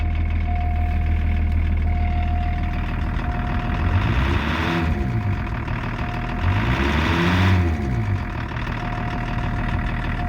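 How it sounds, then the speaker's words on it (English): 1984 Lincoln Continental turbo diesel engine running close by with a steady, rough idle hum, with a couple of brief revs around the middle. "Sounds like every old diesel I've ever driven."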